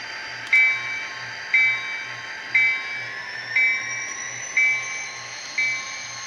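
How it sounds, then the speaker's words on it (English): A small model Athearn RTR SD40-2 diesel locomotive hums steadily along with a faint electric whine, marked by a regular clicking beat about once per second as it rolls forward. "I'm going to bring the train forward, pull her forward and then we'll do a coupling"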